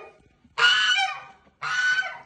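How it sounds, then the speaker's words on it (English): A goose on a summer farm honks loudly in two long, harsh bursts close by, with a short gap between them and chickens about. "Noisy old goose."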